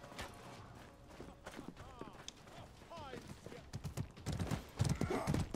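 Horse hooves clip-clop across a battlefield in the medieval combat game Mordhau, a run of quick uneven hoofbeats mixed with clashing game effects and occasional whinny-like tones, while a player talks over it.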